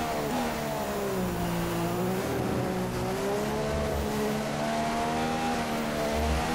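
A Formula 1 race car engine in the F1 2015 game, practice session at Singapore, holds a loud continuous high whine that rises and falls with shifting revs, steady and close throughout.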